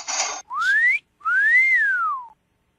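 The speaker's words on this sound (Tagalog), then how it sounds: "Ako ba sinisipulan mo?" A person whistles alone, close and clear: a short breathy burst, then a rising whistled note, a pause, and a longer note that climbs and slowly falls away.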